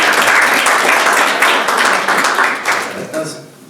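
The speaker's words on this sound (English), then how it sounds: "Give them a clap" Clapping from an audience at the grand final of a law student client interview competition, a loud, steady round of applause that tapers off toward the end.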